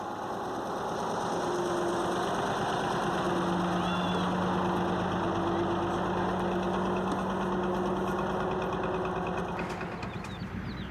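A lorry engine runs steadily on a Sahara dirt track, a loud, continuous rumbling drone with a rhythmic mechanical pulse and faint tonal whine throughout, without talk.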